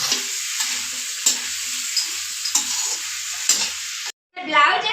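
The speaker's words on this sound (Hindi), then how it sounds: "इसमें डाल देंगे भुना हुआ मसाला और इसे अच्छे से पका लेंगे।" Roasted masala stirred and fried in a pan, a steady sizzle with repeated scraping strokes of a spoon, close and continuous, cutting out briefly near the end before a louder burst of frying.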